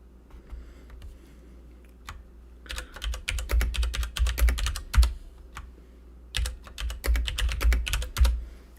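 Rapid typing on a computer keyboard, close and crisp, in two long bursts of quick key clicks with a brief pause between them and no talking.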